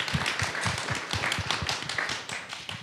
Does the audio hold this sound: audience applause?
yes